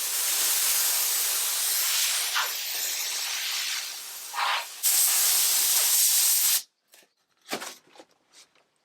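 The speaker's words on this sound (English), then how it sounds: "it was pretty straightforward to remove it with my steamer" A steady, loud hiss of a wallpaper steamer working over glued wallpaper, holding for several seconds, then cutting off into near silence broken by a few brief scraping and rustling noises.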